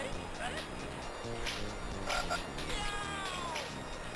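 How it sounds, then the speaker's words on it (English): Frog croaks from a Scooby-Doo plug-and-play video game, a few short croaking calls over steady game music and effects, with a person talking over the gameplay. "I got hurt by the frog"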